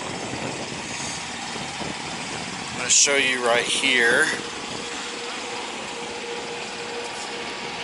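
A 2018 Freightliner truck engine idles with a low, steady diesel rumble, and someone talks briefly over it partway through.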